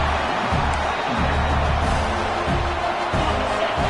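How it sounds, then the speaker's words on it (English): A stadium crowd at a football game roaring in a steady, dense wash of cheering and noise, loud and continuous throughout with no distinct voices standing out. "Listen to the crowd energy here in the early going."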